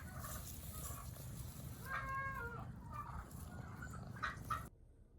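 Turkeys gobble on a driveway, a few short warbling calls rising over steady outdoor background noise before the sound cuts off abruptly.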